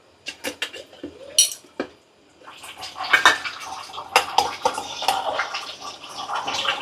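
Clattering of a metal pot and utensil as ghee is added to pulao cooking on the stove, with several sharp clinks and knocks followed by a steady, moderately loud scraping and rattling stir.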